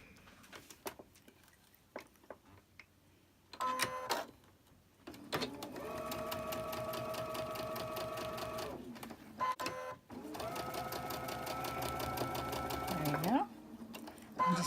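A sewing machine chain stitches in two long runs, a steady, fairly loud mechanical whir that starts and stops with brief pauses between, with soft handling noises around it.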